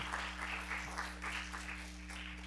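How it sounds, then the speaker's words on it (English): Audience applause in a conference auditorium at a teens' conference, a steady patter of clapping heard faintly and at a distance over a constant electrical hum. "a big round of applause"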